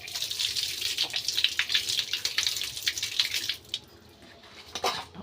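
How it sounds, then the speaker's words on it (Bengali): Hands rubbing under a running kitchen tap, with water splashing and gushing steadily and close for several seconds before the flow drops off, followed by a few faint drips and splashes and no talking. "দেখি হাতটা একটু ধুয়ে নিই"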